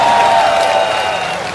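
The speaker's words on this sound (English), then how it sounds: "Don't clap your hands" An audience at a large live MahaShivRatri gathering at an outdoor yoga center claps steadily, a dense and loud wash of applause that holds evenly throughout.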